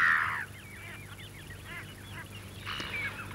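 Brent geese calling on a North Sea estuary, a steady stream of overlapping honks and chattering calls from a flock at moderate distance, with a louder burst at the start and another near the end.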